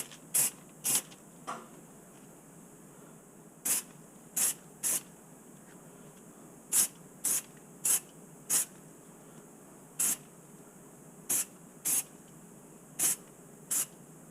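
Short bursts of spray paint hiss onto a custom Oakley wind jacket, a series of brief, crisp sprays, spaced irregularly with quiet gaps and a couple of quick clusters, close and clear with no talking.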